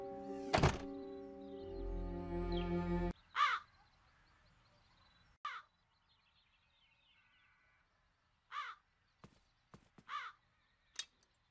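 Several video-game crow caws ring out singly with gaps between them, after a dull thunk and a low droning tone; sparse and fairly clear.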